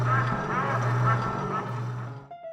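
A duck quacks steadily for a couple of seconds, its nasal calls close and fairly loud, alone with no talking.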